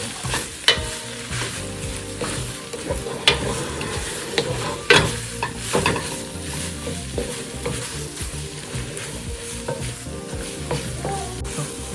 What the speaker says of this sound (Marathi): कॅबेज टाकल्यानंतर 2 मिनटं असं मस्त हलवायचं